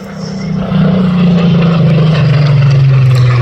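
A Supermarine Spitfire flies past at an air display, its loud propeller-engine drone swelling close by and then sliding steadily lower in pitch as it passes.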